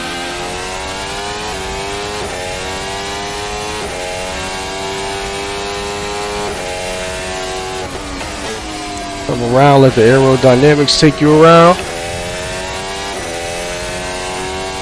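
A Formula 1 car in a VR racing game, its engine whining at high revs through gear changes, then rising to a loud rapid warbling surge near the end, with someone talking over it.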